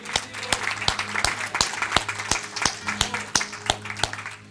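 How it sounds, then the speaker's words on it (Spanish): A church congregation claps in a quick, regular rhythm over a sustained musical drone, loud and close, with talk mixed in. "Den un fuerte aplauso a Dios"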